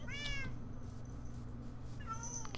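Several cat meows from the Minecraft Pixelmon mod, one near the start and another near the end, heard over a steady background hum from the game with faint tones between the calls.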